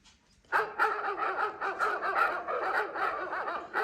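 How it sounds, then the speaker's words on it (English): A Ring Chime doorbell plays its recorded dogs-barking tone: several dogs bark repeatedly and loudly, overlapping in a steady, busy stream of yaps and woofs after a brief quiet start. "Dogs barking."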